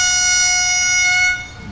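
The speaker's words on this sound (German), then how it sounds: "Jawohl, haben wir auch eine Hupe hier?" A sustained train horn on a DB BR 423 S-Bahn unit in Train Simulator 2021, Munich line: a loud, steady multi-tone blast holding for over a second, then cutting off abruptly into quiet background.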